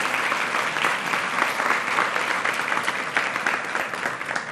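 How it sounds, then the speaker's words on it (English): An audience claps steadily and energetically, a dense, even wash of applause lasting several seconds. "Let's give our director a round of applause."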